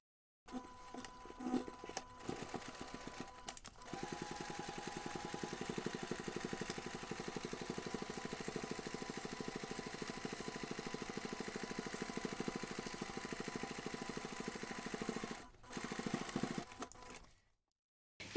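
A sewing machine bastes the fabric edges of a laptop bag divider zipper pocket, humming quietly and steadily for a long run with brief stops near the start and end.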